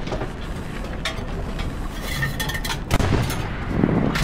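A Panther tank in the video game Hell Let Loose fires an armor-piercing shell, a loud sharp boom over a steady rumbling engine and battle din.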